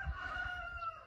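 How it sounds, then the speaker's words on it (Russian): Young Ameraucana chicks kept in a greenhouse give soft, faint clucking calls for a brief moment, with no talking. "В этой теплице у меня сидят цыплята."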